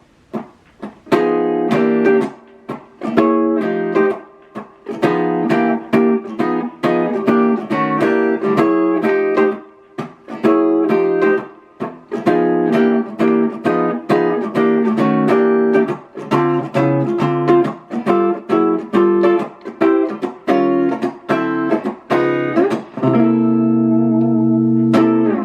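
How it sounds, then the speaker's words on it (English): Electric guitar played clean through a budget Donner amp with only its reverb section on, with an Analog Alien Rumble Seat reverb, bluesy picked notes and chords ringing out loud and close with a short reverberant tail, ending on a sustained chord. "let's see how the Donner sounds with just the reverb on."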